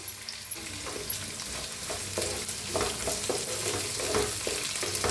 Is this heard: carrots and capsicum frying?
yes